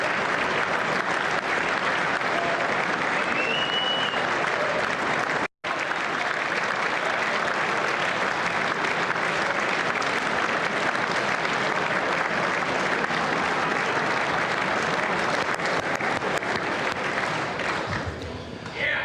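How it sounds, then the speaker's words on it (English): Members of Congress applaud in the chamber during Trump's State of the Union address, a long, loud, continuous roar of clapping broken by a brief dropout, with a person's voice talking over it at times. "Some are even clapping."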